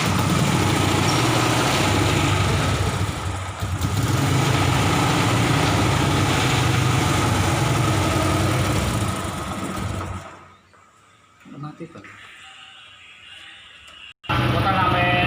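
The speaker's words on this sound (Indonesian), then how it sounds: "mari kita nyalakan sepeda terlebih dahulu." A conventional motorcycle engine idles after being started, a steady low rumble filling the first ten seconds before dropping away to near silence, then resuming abruptly near the end.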